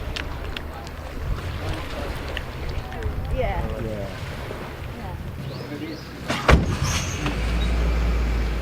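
A safari vehicle's engine rumbles steadily while it drives across a dam in Satpura Tiger Reserve, with wind buffeting, some rattles and a bump partway through, and a low roar rising near the end.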